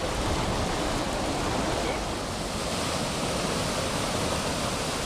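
Floodwater pours down in heavy, continuous torrents along the Dawlish seafront, a loud, unbroken roar of rushing water that stays steady throughout with no clear voices.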